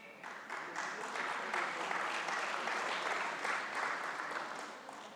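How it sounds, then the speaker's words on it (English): Audience applause at a fall breakfast gathering, a steady patter of clapping hands that rises quickly and keeps going for several seconds before tapering slightly, heard faintly and alone. "We clapped, but nobody stood up."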